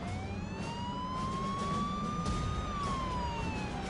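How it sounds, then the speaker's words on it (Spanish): A police car siren wails, sweeping up and down in pitch over steady road rumble, sounding fairly distant. "el coche se nos acercó y encendió la sirena"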